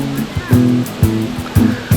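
The Aanayadikuthu waterfall in Idukki makes a constant rushing wash of flowing water beneath steady speech that dominates the foreground.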